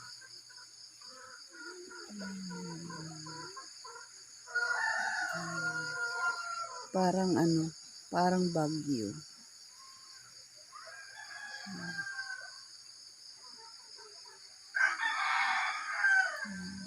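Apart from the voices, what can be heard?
roosters crowing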